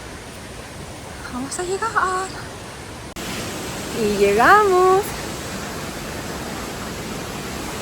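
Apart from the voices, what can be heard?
Salto el Calzoncillo waterfall in Chile, heard from nearby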